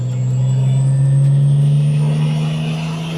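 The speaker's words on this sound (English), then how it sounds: "you can hear the turbo spooling up" A Toyota Supra engine fitted in a Mercedes body, its T78 turbo spooling up as the revs build. The engine drone is loud and steady and rises gradually, with a faint whistle climbing in pitch above it.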